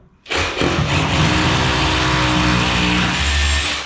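A loud, harsh drilling roar starts suddenly and runs continuously at close range, gritty and constant throughout, as a drill bores a 6.5mm hole into a dot-and-dab wall.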